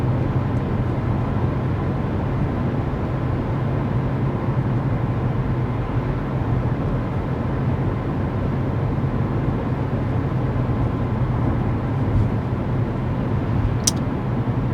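Steady interior road noise inside a 2024 Buick Envista cruising at 55 mph on a smooth road, a constant low rumble and tire hum with no talking, unchanged throughout apart from a faint tick near the end.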